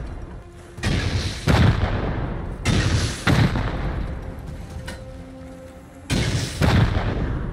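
Three separate volleys of AK rifle fire in the survival video game Rust, each a short cluster of booming shots with quiet gaps between them.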